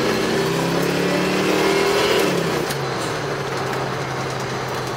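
A Ford Mustang 5.0 GT Fox Body convertible on a test drive, its V8 droning steadily inside the cabin as engine pitch rises, drops at a shift, then holds a lower even tone, with road noise beneath.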